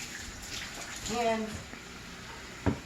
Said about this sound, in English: over here, we're going to do a quick wash, obviously.